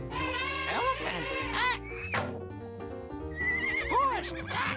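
A horse neighs in a long, vibrating whinny that rises and falls, repeated in a few bursts over a steady musical backing.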